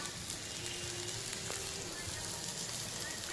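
Ginger, a bay leaf, cinnamon, black pepper and cloves dry-roasting in a pan give a soft, steady sizzle and crackle throughout, faint and unbroken, with no voices over it.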